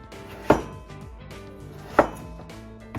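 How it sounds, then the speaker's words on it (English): A knife chops potatoes into cubes on a cutting board, two sharp, distinct knocks about a second and a half apart, with a third lighter tap at the end, close and clear with no talking. "And then you cut them into cubes, kind of the same size."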